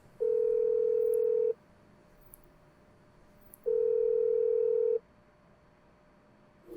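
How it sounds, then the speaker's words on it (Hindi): A telephone rings out during a call to a relative on a televised quiz show, with two long, steady ringback tones separated by a pause, heard clearly in an otherwise quiet room. "उनको लगा दिया जाए फोन।"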